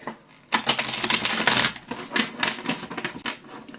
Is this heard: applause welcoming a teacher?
no